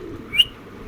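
A single short call from foreign-breed pigeons kept for sale, rising briefly and clearly over a quiet, steady background hum.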